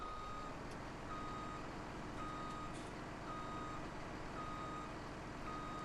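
Reversing beeps from a truck in the Farming Simulator 17 video game, a steady repeating electronic beep over a constant engine and ambient drone, with no talk.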